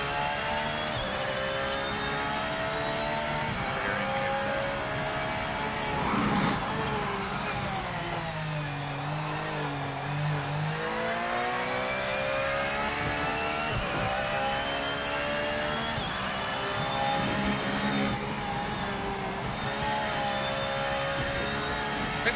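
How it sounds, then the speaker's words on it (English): A Porsche GT3 race car engine held on throttle in a racing game, a loud continuous harmonic whine that climbs and dips as revs shift and gears change, with no talking. "On throttle in a Porsche."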